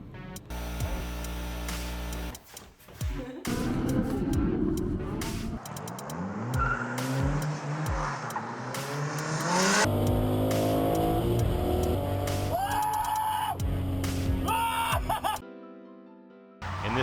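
A classic 1971 Chevy El Camino A-Body streetcar doing a burnout: loud engine revving rises and falls, with screeching tire squeal and abrupt changes between bursts. Brief voices can be heard.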